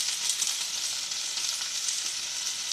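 Grated garlic, green chili and coriander being stirred in a frying pan give a steady, close hiss of sizzling oil that continues without a break and without any voices.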